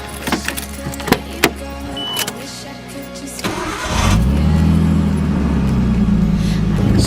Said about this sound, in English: So while I let the car warm up